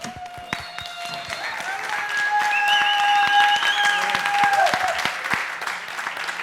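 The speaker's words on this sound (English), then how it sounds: "A round of applause for Alex," An audience at a hackathon night event claps loudly for a speaker, steady dense applause that swells slightly, with a few whistles or cheers riding over the clapping.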